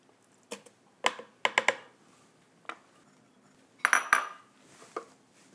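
Mashed avocado being scraped into a blender makes scattered clinks and knocks of a utensil against the container, about eight sharp taps spread irregularly over several quiet seconds.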